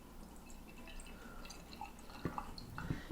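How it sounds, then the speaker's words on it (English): Five-year-old beer poured into a glass, giving soft drips and splashes over a low background hum, with a few sharper liquid plops toward the end. "So let's pour a little bit of this in this glass here."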